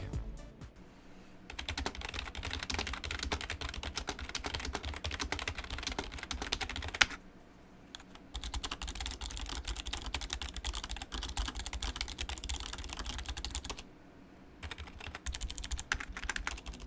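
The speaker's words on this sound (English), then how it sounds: "here's a quick sound test of both keyboards back to back" Steady, rapid clatter of typing on Razer Ornata Chroma and Logitech G213 Prodigy keyboards in two long bursts, with a short quiet gap between them and another near the end.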